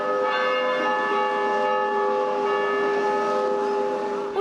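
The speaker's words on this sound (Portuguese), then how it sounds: "Os sinos começaram a repicar ao meio-dia na Catedral Basílica Menor de Nossa Senhora da Luz dos Pinhais" Cathedral bells of the Catedral Basílica Menor de Nossa Senhora da Luz dos Pinhais in Curitiba ring out at noon, a loud, sustained wash of overlapping tones carrying steadily across the city.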